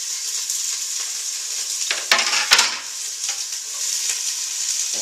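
Chopped leek, the white and light green parts, sizzling as it frying in olive oil in a pot, a steady close hiss with a few louder clatters and stirring bursts near the middle.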